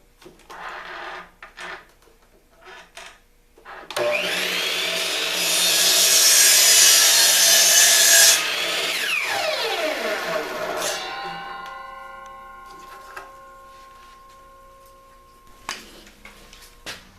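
A power saw cuts through wood held in a holding jig for a dome ceiling framework, preceded by a few light clicks and knocks, then a loud, steady cutting roar of several seconds before the blade whines down.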